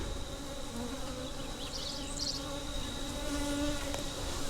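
Honey bees from a captured June swarm buzz steadily inside an open hive, a dense continuous drone close by with a few brief nearer whines of individual bees passing, no talking.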